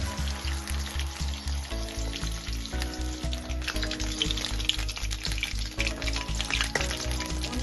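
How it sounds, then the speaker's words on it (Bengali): Pieces of silver carp fish fry in hot oil until browned, a dense close sizzle with crackling spatter, under a repeating low rhythmic hum. "মাছগুলোকে ভালো করে একটু লাল লাল করে ভেজে নেব"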